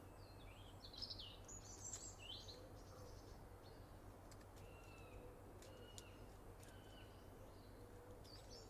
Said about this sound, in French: Des chants d'oiseaux semblent traverser cet espace comme des notes de musique.